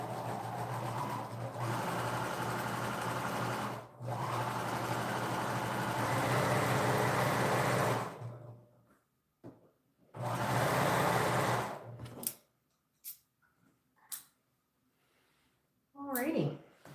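A sewing machine stitching fabric runs in long continuous whirring bursts, steady and close, then stops and starts in shorter spurts with quiet gaps and small handling noises between.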